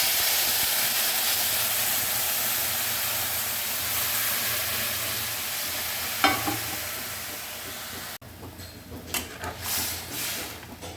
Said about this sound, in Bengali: আমাদের ঝোল ফোটা শুরু হয়ে গেছে, মাছের ঝোল।